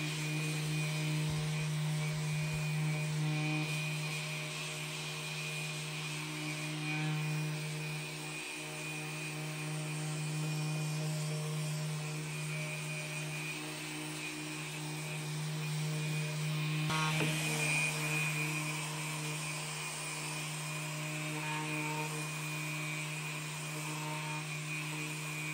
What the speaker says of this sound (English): I have this spongy interface pad that I can attach to my sander